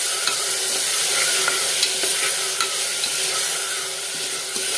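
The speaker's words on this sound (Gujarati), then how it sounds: "દાળને આપણે અડધી મિનિટ સુધી સાતળશું" Urad dal sautés in a hot pan for a Gujarati dal recipe, with loud, continuous sizzling and frying crackle plus scattered scraping stirs throughout.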